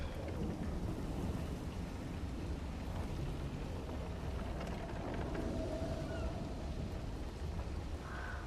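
Steady, heavy rain pours down with deep thunder rumbling through it in the video game Clair Obscur: Expedition 33, a continuous, enveloping storm at moderate volume with no talk.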